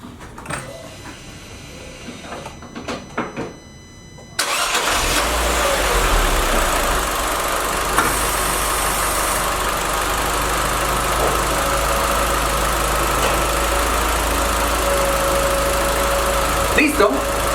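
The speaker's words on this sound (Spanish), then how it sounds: "vamos a hacerle inicio en el carro y vamos a mirar el consumo de la corriente en un vehículo encendido" A car engine cranks briefly and catches, then settles into a steady, even idle that runs on for many seconds at close range, with a hint of faint talk in the quieter stretch before the start.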